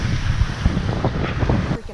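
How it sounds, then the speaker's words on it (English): Strong wind buffeting the microphone in a steady rumbling roar at Rum Point, with water and surf sounds underneath. "Windy right now, so we're not going to snorkel"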